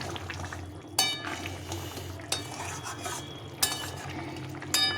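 A spoon stirs cauliflower and pea curry in a pot, with soft bubbling underneath and four sharp metallic clinks against the rim spaced about a second apart, close by and with no one speaking.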